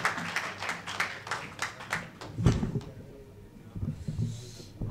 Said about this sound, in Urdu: آئیے جناب شرف نانپاروی صاحب کا آپ تالیوں کی گونج کے ساتھ استقبال کریں